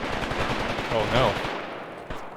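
Enemy machine gun fire in the Graviteam Tactics war game, a dense stretch of battle noise with a brief burst standing out midway, fairly loud and continuous.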